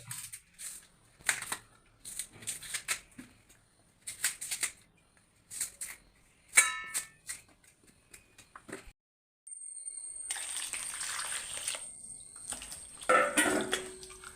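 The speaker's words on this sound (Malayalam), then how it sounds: "നമുക്ക് ഇതൊന്ന് കഴുകുക വെള്ളം ഒഴിച്ച് നന്നായിട്ട്" Raw plantains being washed under water for frying into chips, with scattered wet handling sounds and splashes, then a steady stream of running water from a tap, close and clear, with no talking.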